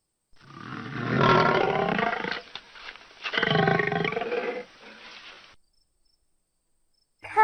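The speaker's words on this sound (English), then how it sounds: "lion," A lion delivers two long, powerful roars, loud and close, the second trailing into grunting breaths before quiet and a brief sound at the end.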